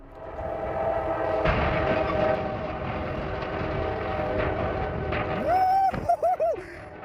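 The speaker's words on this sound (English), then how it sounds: "Nothing other than a speeding train." A train roars past in a loud, sustained rumble, its horn blaring in short blasts near the end.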